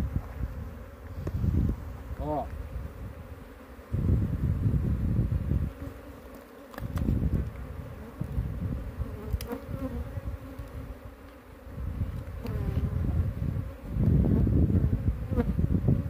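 Honeybees buzz loudly around a hive being captured and transferred in the countryside, a dense swarm drone rising and falling in waves with individual bees passing close, while someone says a brief word.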